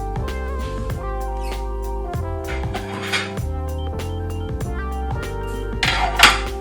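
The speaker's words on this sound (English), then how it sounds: "let's put them on a plate and move them over so that way we don't have to make one trip" Onions set onto a plate while kitchen dishes are handled, producing a run of close, bright clinks and clatters of crockery and utensils at an uneven rhythm, with no talking.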